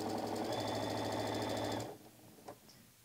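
A sewing machine runs steadily, stitching a quarter-inch seam on a flannel quilt. The close, even whirr lasts just under two seconds and then stops, leaving quiet handling noises.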